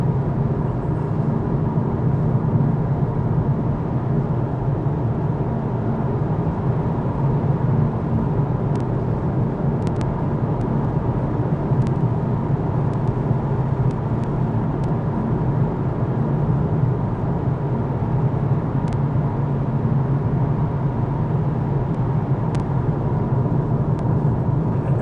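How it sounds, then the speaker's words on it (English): Steady broadband road and wind roar fills the cabin of a Lexus UX 300e electric car while driving, an unbroken loud hum with a few faint clicks and no talk. "Damn, this car is noisy."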